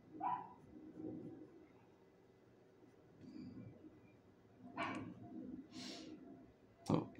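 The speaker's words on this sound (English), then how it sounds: "there goes that dog saying, hey, dude, you still drawing?" A dog gives a few scattered barks and yips at moderate distance in a quiet indoor room, in short separate bursts with pauses between them.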